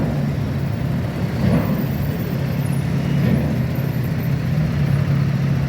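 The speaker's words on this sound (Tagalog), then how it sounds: "Ayan ngayon ang mga motor, oh." Motorcycles pass near a busy harbor with loaded ships, a steady, loud engine drone with a low rumble that stays constant throughout.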